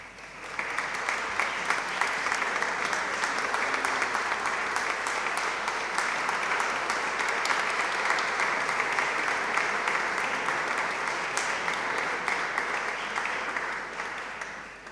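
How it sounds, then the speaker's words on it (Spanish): Sustained applause from an audience closing a formal recognition ceremony honoring the work of Don Bosco in Argentina, a steady dense clapping that holds evenly throughout without talk over it. "Con este merecido aplauso damos por finalizado el acto"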